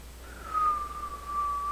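Someone whistles through pursed lips, holding one steady, slightly falling note for about a second. It sounds alone and close, with no talking.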